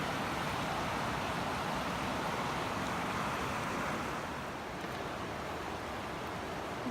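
Broad, steady rush of the French Broad River flowing beside a trailside campsite, a continuous even wash of water noise with no voices.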